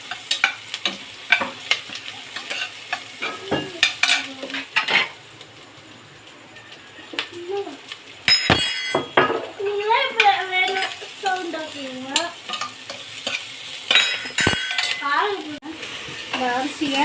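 Onions with a little salt fry in a pan, their sizzle broken by irregular scraping and clinking stirring strokes and occasional pan knocks, with brief close stretches of a voice in between.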